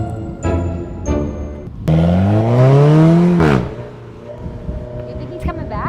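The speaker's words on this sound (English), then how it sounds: "We're taking this 4C for a ride." A lime green Alfa Romeo 4C coupe revs up loudly nearby, its engine note rising sharply for a couple of seconds before dropping away as it pulls off, with softer clicks and idle sounds before and after.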